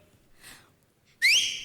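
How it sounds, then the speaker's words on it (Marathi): A person gives one short, loud whistle with a rising, sliding pitch, heard close up and alone after a faint breathy sound. "माझ्या घरात शिट्टी"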